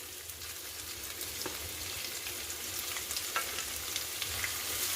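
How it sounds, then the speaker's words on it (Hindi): Finely chopped onions fry in a pan for dhaba-style dal fry, making a dense, continuous hiss and crackle of hot oil up close, with faint stirring and no talking. "अब हम इसे चलाते हुए इसे गोल्डन ब्राउन होने तक हम इसे भून लेंगे"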